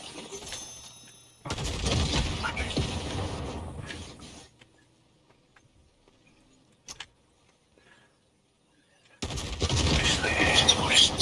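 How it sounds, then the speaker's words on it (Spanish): Bursts of gunfire in a video game, first a sustained volley and then, after a quiet stretch with a single faint pop, another loud volley at the end. "Ha habido tiros."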